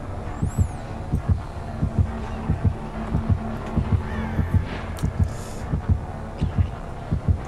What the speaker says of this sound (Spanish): estoy escuchando seguido los latidos y me pongo nervioso